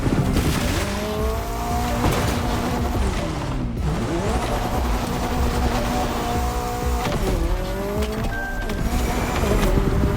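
A BMW Z4 M40i roadster in The Crew Motorfest revs hard through the gears, engine pitch climbing and dropping with each shift, with tire squeal and a loud, close, continuous roar throughout.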